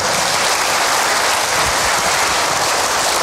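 Church congregation applauding in praise to God, a dense, loud wash of many hands clapping together, steady and unbroken with no voices over it.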